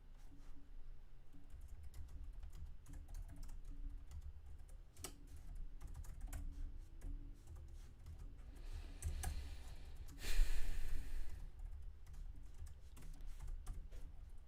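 Steady typing on a computer keyboard during a computer science class, a close run of quick clicking keystrokes with brief pauses and a louder burst of keys partway through.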